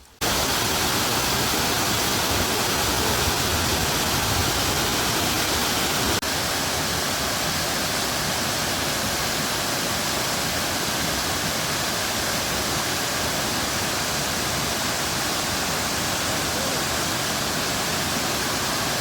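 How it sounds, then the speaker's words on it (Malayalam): The Manneera waterfall roars as a constant, loud, broadband rush of falling water, unbroken and with no voices. "ഈ മണ്ണീര വെള്ളച്ചാട്ടത്തിന്റെ ചെറിയൊരു ദൃശ്യമൊക്കെ ആസ്വദിച്ചു എന്ന് കരുതുന്നു"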